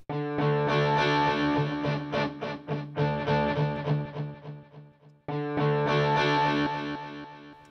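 A distorted guitar riff through a delay with long feedback, echoes piling up and decaying in a stuttering wash before the riff starts again.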